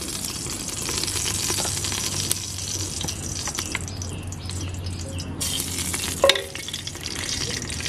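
Ghee heating in a pot on the stove gives a steady, soft sizzle with faint stirring and clinking over several seconds, and no one speaks.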